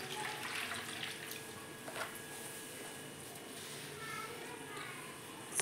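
Water pours softly into a vessel of soaked wheat with a quiet trickling splash, while children's voices are faint in the background.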